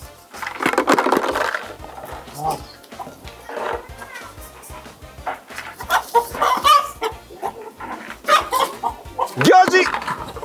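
A chicken clucks and squawks in bursts while being chased in a catch-the-chicken game at an Easter holiday show, with people talking and shouting loudly over it.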